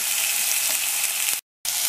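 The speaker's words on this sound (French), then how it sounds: "Dans une casserole avec de la matière grasse, je saisis mes carcasses de pigeons." Loud, steady sizzling of pigeon carcasses searing in hot fat in a pan, continuous and close, briefly cutting to silence before the frying resumes.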